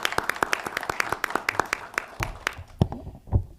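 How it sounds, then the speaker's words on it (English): A small audience claps for scouts at a council meeting, a few nearby people giving sharp, distinct claps that thin out and fade after about three seconds. "Could we please give them a round of applause?"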